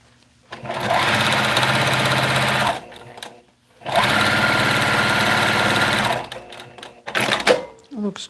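A sewing machine stitches fabric in two bursts of a few seconds each, a close, fast buzzing whir that stops between runs, followed by brief handling noises.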